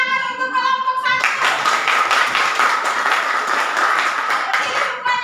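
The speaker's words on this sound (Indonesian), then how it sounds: "silakan tepuk tangan untuk kelompok 1" A class of high school students applauds a group, dense continuous clapping from many hands filling the room, preceded by a brief tonal sound before the clapping begins.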